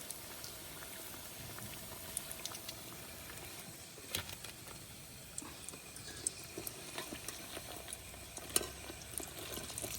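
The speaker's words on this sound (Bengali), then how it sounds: "এই দুইটা আর একটু ভাজবো।" Egg and potato chops frying in hot oil in a pan produce a steady, close sizzle with scattered small pops and crackles throughout.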